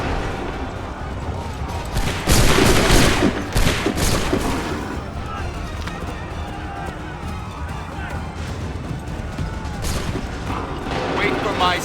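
Musket gunfire volley in the Assassin's Creed III video game, a dense burst of shots crackling loudly for a couple of seconds, then scattered later reports over steady battlefield din, with voices shouting in the mix.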